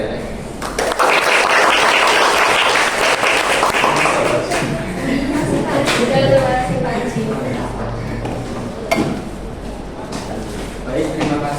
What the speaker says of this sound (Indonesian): kendala biasa nomor 1 tepuk tangan untuk mereka ya